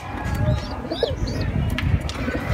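Pigeons coo softly in a loft, low repeated murmuring calls against a steady background, with a few faint chirps mixed in.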